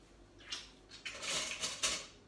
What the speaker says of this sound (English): I'll get one of these little butter knives.